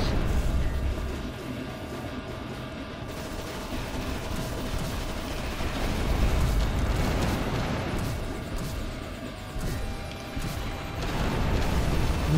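Rocket explosions from the top-down shooter video game Steel-Storm: Burning Retribution, a continuous loud rumbling barrage of booms and blasts that swells and recedes in waves, with no talking.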